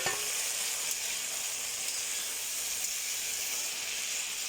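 Fried potatoes added to a hot frying pan, a steady, bright sizzle of oil holding evenly throughout, close and moderately loud, with no talking.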